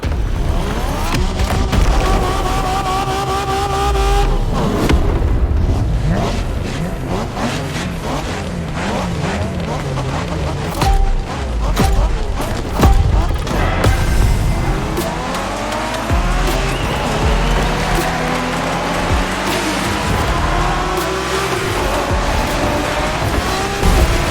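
Race cars roar through The Crew Motorfest video game, engines revving and shifting continuously with tire squeals and skids, loud and dense throughout.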